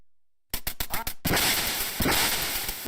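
Ducks in the NES game Duck Hunt flapping off in a quick burst of short electronic quacks, followed by a loud, dense stretch of game noise that stays close and steady.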